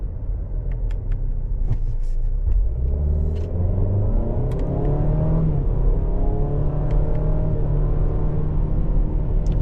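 A 2025 Buick Envision SUV's engine pulls steadily from inside the cabin, its pitch climbing and resetting as paddle-shifted gears change, over a constant road rumble.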